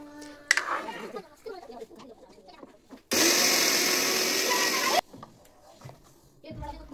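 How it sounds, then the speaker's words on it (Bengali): A kitchen mixer grinder whirs loudly while grinding soaked rice into flour for chitoi pitha, a steady burst of about two seconds set between stretches of quieter household sounds and voices. "পায়েসটা হয়ে যাওয়ার পর গুড়িগুলাকে মিক্সার করে নিলাম"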